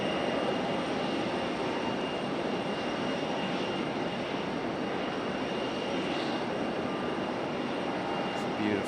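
Engines of an Air France Airbus A350 at Raleigh Durham airport, a broad, steady roar heard from a distance that holds at a constant level throughout.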